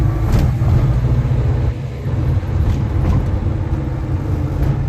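Volvo Amazon 122S with its B18 engine droning steadily while driving, a dense, loud, continuous mid-low rumble, with a brief dip in load partway through.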